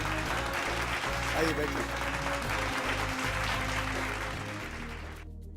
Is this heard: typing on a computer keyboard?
no